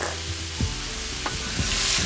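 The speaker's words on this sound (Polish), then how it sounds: "Zamieszam zawartość garnka, by tłuszcz równomiernie się wytapiał." A spoon stirs a pot of fat rendering for Brazilian feijoada, giving a few soft scraping strokes over a steady, close sizzle.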